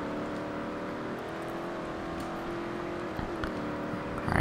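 A car with a 6-speed race transmission runs in Forza Horizon 2, its engine holding a steady, even drone that swells slightly near the end, with no talking.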